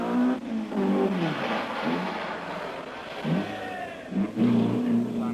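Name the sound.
Group 2 Datsun rally car engine revving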